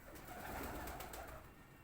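Old Ferozpuri pigeons coo faintly, a soft murmuring burble of low coos running through the short stretch, without speech.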